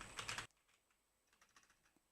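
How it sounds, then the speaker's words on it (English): Quick clatter of computer keyboard typing, a loud dense burst at first, then scattered lighter keystrokes trailing off into near silence. "it's really hard to type"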